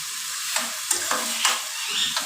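Cumin seeds sizzling in hot oil, a dense, close, bright crackle with a few louder spits and stirring scrapes over a short stretch.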